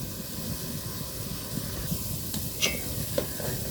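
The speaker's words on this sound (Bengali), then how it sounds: "এরকম নাড়বেন আর বারে বার উঠোয় দেখবেন নারকেলটা ভাজা হয়েছে কেমন খুব সাবধান যেন পুড়ে না যায়" Grated coconut fries quietly in a pan with a soft, even sizzle and hiss, while a spatula stirs it now and then, giving a few brief scraping clicks near the end; no talking is heard.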